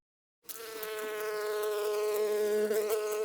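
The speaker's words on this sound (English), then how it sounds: "Linda noticed the bees coming towards them." A swarm of bees buzzes suddenly in after a brief silence, a dense, close, sustained drone with wavering pitch that continues without pause.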